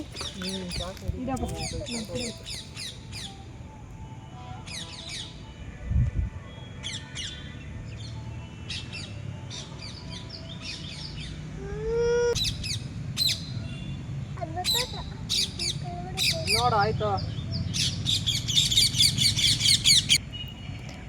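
Many parrots filling a high school field screech and chirp in repeated harsh bursts, close and loud, growing denser toward the end, with a brief spoken remark in between.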